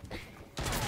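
A sudden burst of gunfire from a sniper in a Fortnite match crashes in loudly after a moment of quieter game sound, with a voice talking briefly underneath.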